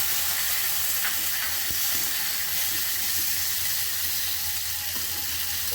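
Tomato sautéing with onion in a pan makes a constant, even sizzle close by, with occasional faint crackles and no talking.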